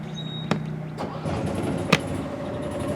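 An RV generator on a 2023 Jayco Redhawk 22C starts with a couple of sharp clicks and catches, then runs at a steady mid-pitched hum throughout the short stretch, nearby and moderately loud.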